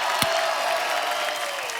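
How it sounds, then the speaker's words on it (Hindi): A studio audience claps under a steady background hum, a brief, moderately dense burst of applause without speech. "धर्म पाजी एक बार जोरदार तालियां बनती है यार"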